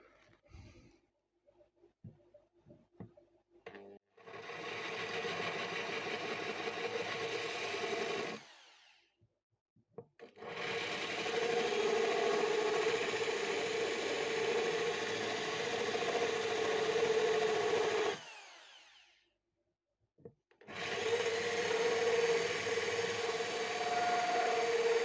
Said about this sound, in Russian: И начинаем сверлить.